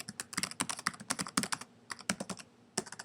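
Rapid typing on a computer keyboard, dense clusters of crisp key clicks in an uneven rhythm, close and fairly quiet with a short pause near the end.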